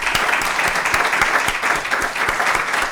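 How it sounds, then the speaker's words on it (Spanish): An audience at a lecture claps steadily for a few seconds: dense, even applause from a crowd, with no voices over it. "Un aplauso para él, por favor."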